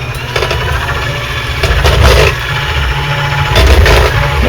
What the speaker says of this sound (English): This is a newer KitchenAid hand mixer.